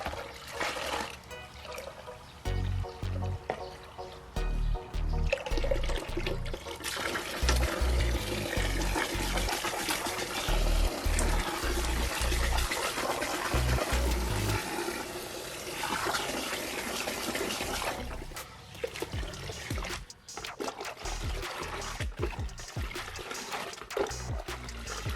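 Water runs from a hose into a bucket, mixing with pool algicide, a loud continuous gushing and churning that lasts most of the stretch before tapering to trickles and splashes.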